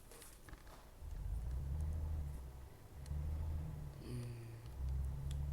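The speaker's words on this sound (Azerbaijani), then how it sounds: "Maşını çalışdırdıq." A truck engine in Euro Truck Simulator 2 starts and idles, then pulls away, a low rumbling drone rising and falling in repeated surges as it revs and drives off, fairly quiet with a brief higher whine near the end.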